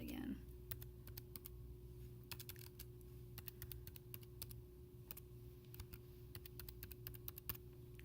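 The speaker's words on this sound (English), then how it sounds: "you're going to type your ID number." An ID number being typed on a computer keyboard, with sharp, close key taps in short irregular clusters over a steady low hum.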